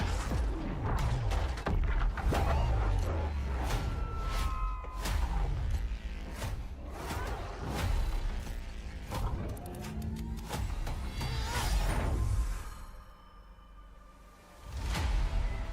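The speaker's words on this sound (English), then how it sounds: "We sure cause a lot of explosions." Trailer for the co-op video game Split Fiction plays a run of booming explosions, whooshes, thuds and mechanical creaks, loud and layered in quick succession, with a brief quieter dip before a final burst.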